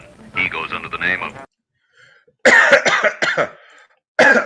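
A person coughs in a few harsh bursts close to the microphone, separated by short silences, with one loud cluster in the middle and another at the very end.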